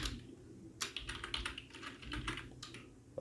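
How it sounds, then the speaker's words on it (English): Fingers tap quickly on a computer keyboard, a quiet, close run of irregular clicks with brief pauses, no voices. "then you type in your examination number"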